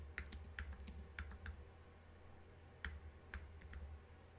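Keys clacking on a computer keyboard while text is laid out along a curved line, including presses of the space key, in quick bursts of light clicks separated by a pause, faint over a low steady hum.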